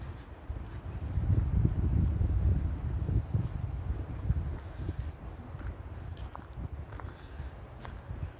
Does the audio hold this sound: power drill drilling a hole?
no